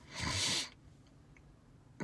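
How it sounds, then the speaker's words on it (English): A person stifles a sneeze, producing a single muffled, breathy burst that lasts about half a second. Near silence follows, then a brief faint click at the end. "I think I was about to sneeze, and I sneezed in my mouth"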